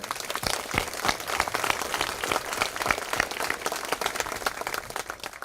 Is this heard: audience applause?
yes